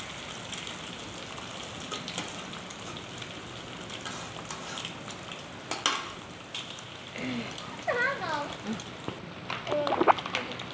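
Egg frying with onion and chili in a pan hisses with a steady, close crackling sizzle, joined by a few louder spatters near the end, while a person talks over it.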